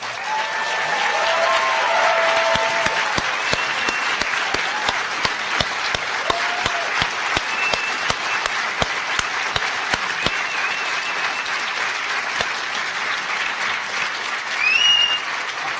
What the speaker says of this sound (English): some of you who felt you didn't applaud enough for Daniel's amazing speech